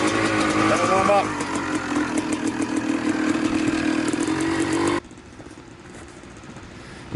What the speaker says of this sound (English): They want to hear the two-stroke CR250, the Red Rockets.